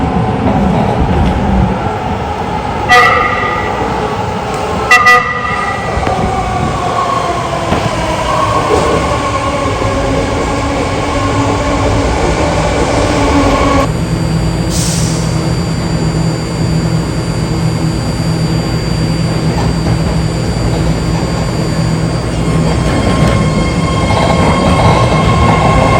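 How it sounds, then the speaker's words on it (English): A BART subway train rumbles and screeches through a station platform, with steady low roar, rising wheel squeal and brake hiss, a sharp high tone near the end, sustained and fairly loud with no talking. "go down to the platforms of your station choice and appreciate the sounds and noises of BART"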